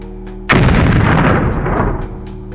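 A buried IED blast rips through a valley: a single loud, sudden boom that rolls out and slowly decays over about a second and a half above a low steady hum.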